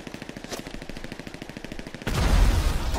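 Rapid automatic gunfire in GTA V, a steady stream of evenly spaced shots for about two seconds before a louder, rougher burst of noise takes over at the end.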